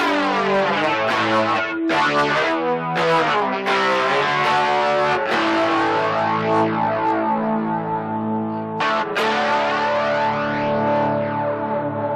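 Electric guitar played through a distortion effect into a TASCAM DP24 recorder, with loud overdriven chords and notes that ring out and decay, a few sharp strums cutting in near the end.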